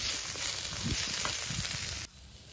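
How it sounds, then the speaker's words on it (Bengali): Steady sizzling of onions frying in a pan, with scattered low scraping stirs, then the sizzle drops away abruptly near the end. "পেঁয়াজটা একটুখানি লাল লাল করে ভেজে নেবো"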